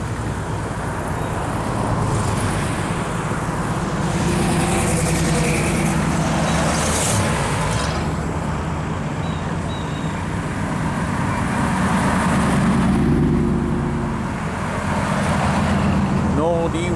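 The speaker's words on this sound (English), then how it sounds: "Oh, I think that's a 57 Chevy coming." A 1957 Chevy rolls past at a car cruise, its engine rumble swelling and fading among steady road traffic, with people talking nearby.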